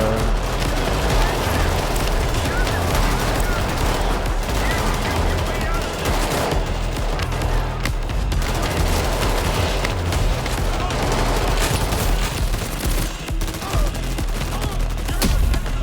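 Sentry gun in the video game Payday 3 firing sustained rapid automatic bursts, loud and continuous, mixed with other gunfire and game noise, with a voice talking over it.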